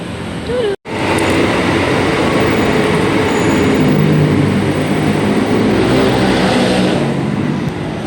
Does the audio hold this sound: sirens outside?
no